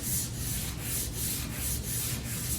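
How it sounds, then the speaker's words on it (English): A hand sands a C10 show truck's steel roof at an angle, giving a steady, close, rhythmic scratching rub with regular strokes and no talk. "So I'll sand at an angle"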